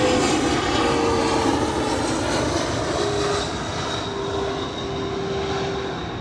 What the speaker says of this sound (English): plane. Hang on.